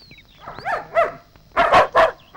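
A dog barks a few times from fairly close by in a Malayalam comedy film scene, with two louder barks near the end and faint vocal sounds in between.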